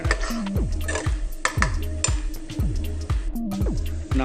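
Onions and curry leaves being stirred in a pan for liver fry over a medium flame give off a steady run of rhythmic scraping and clinking strokes. The stirring is close, loud and continuous, with no voices.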